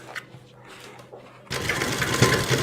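Sewing machine stitching along the fabric edge of an Afghani salwar, kept off the elastic; the motor starts midway and runs loud and steady to the end after a quieter start with faint handling.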